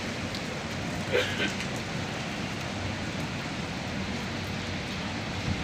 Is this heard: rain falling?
yes